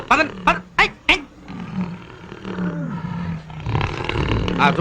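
A deep animal roar repeats in several short bursts, then gives way to lower growling and rumbling noise; loud and close.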